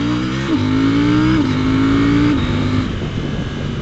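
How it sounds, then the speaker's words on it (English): A KTM 790 Duke motorcycle runs loud and close, its engine note rising in steps as it quick-shifts up through the gears, each shift marked by a brief dip before the exhaust climbs again. "Listen to that exhaust note on the overrun."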